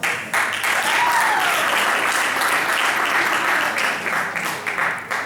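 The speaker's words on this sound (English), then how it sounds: "Clap hands for yourselves." A conference audience at a Model United Nations event breaks into loud, sustained applause, many hands clapping together in a dense, even roar that continues throughout.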